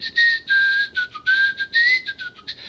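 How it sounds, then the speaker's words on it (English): A person whistles a lively tune, short melodic phrases with brief pauses, clear and close, with no talking. "I do a lot of whistling."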